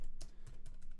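Rapid clicks of a computer keyboard being typed on at a Mac, close and fairly loud, with a steady hum beneath and no voices.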